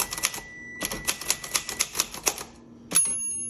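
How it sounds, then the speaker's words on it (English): Keys strike on a 1962 Royal Dart manual typewriter in quick irregular bursts, crisp and close, with a pause partway through and a sharp bell-like ding near the end; no talking. "Let me do some typing so you can hear it"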